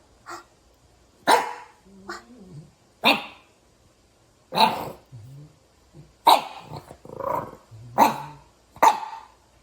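Small-breed puppy barking in sharp, loud, close bursts roughly every second, with low growls and whiny grumbles between the barks.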